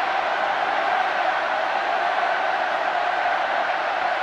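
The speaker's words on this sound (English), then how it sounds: "And the crowd have found their voice." Steady broadband roar of a rugby stadium crowd at a Wales versus Ireland warm-up match, a dense wash of massed voices and cheering holding at an even level throughout, with no distinct individual sounds standing out.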